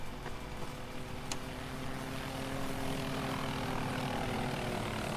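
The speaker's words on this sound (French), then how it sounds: "Regardez, il est où l'hélicoptère?" Helicopter in the video game Garry's Mod DarkRP, a continuous droning rotor and engine hum at steady loudness, heard alone without talk.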